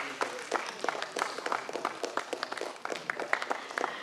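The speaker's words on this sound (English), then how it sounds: "A big round of applause." Applause from an audience at a science festival prize ceremony, many hands clapping steadily at moderate distance, rising and falling slightly with no voices on top.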